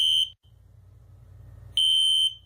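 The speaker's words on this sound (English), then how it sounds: "Eric has pulled the fire alarm again" A school fire alarm rings in loud, shrill electronic bursts, one burst at the start and another near the end, with a low rumble in the pause between them and no talk.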